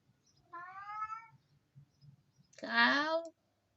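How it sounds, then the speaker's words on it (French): A cat gives two odd, drawn-out meows, the second louder and more strained, separated by a short pause, with faint background clicking. "Et il y a des drôles de miaulements."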